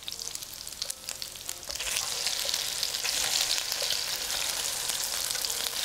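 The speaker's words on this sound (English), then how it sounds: "We'll want to keep frying on the other side until it becomes cooked through" Cantonese fish cakes fry in an oiled pan with a steady, bright sizzle and crackle that grows a little louder after the first couple of seconds and keeps going evenly, with no talking.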